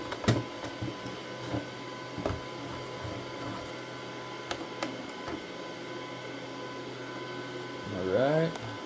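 ANYCUBIC Kobra 3D printer printing multicolor filament fed through an Ace Pro dryer unit, giving a faint steady hum with light clicks and ticks, ending in a brief rising motor whir.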